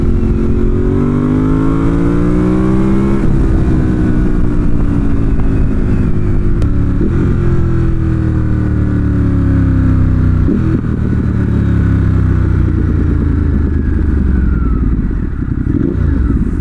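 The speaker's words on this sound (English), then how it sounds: "first and second gear, holy crap, this thing rips" A 2018 Ducati Monster 1200 S accelerating hard through first and second gear, the engine's loud rising roar climbing in pitch, dropping at each upshift and climbing again, heard up close and alone without talk.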